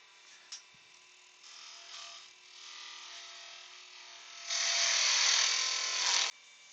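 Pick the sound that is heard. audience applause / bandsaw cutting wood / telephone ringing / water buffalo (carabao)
bandsaw cutting wood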